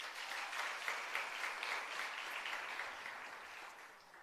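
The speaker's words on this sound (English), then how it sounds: "Can you give him a round of applause?" Steady applause from a workshop audience greeting an acting CEO introduced on stage, even and moderately distant, sustained for the whole stretch and easing slightly at the end.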